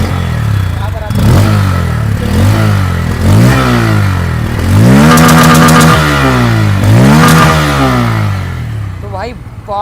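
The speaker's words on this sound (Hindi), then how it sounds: "लेकिन जैसे ही मैं थोड़ा सा बूम करता हूँ" A Bajaj Pulsar N160 motorcycle exhaust is revved in repeated loud blips, the engine climbing and dropping several times up close over a rough idle.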